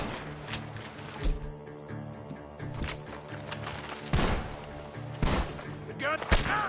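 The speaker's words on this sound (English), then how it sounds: "The gunshot!" Gunshots in the Red Dead Redemption 2 video game, a handful of sharp cracks spaced irregularly among game sounds, with a voice speaking over part of the action.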